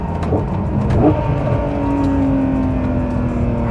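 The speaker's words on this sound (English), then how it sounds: "Those downshifts are awesome." A Ferrari with a 6-liter V12 engine revs and downshifts, loud and close, with sharp throttle blips and a sustained engine tone.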